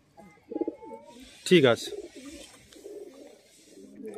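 Golden and Phulshira pigeons in a loft give soft coos, with one louder, rippling coo standing out in the middle, while someone speaks briefly nearby.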